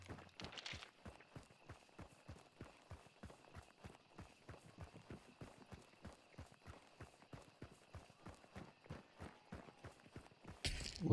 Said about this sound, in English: It's definitely a pissed off horse.